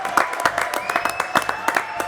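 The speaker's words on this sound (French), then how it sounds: "Applaudissements à mes 3 invités." Studio audience applauding guests on a French television show, a short burst of brisk, dense clapping at moderate volume, steady throughout without voices.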